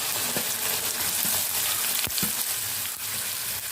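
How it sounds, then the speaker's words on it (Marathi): Ginger garlic paste and onion fry in a pan with a steady, close sizzle, broken by a few sharp scrapes of stirring. "अद्रक लसूण पेस्ट थोडीशी तळले गेली की लगेच आपल्याला कांदा घालायचा आहे"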